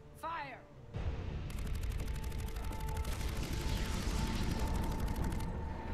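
Mass Effect 3 battle gunfire, a rapid mechanical rattle of shots that runs for several seconds after a brief sweeping tone, loud and continuous, with a voice speaking over it.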